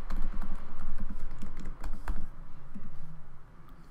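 Computer keyboard keys clatter in a quick, uneven run of close, crisp taps while an email address is typed in, with short pauses between bursts and no talking.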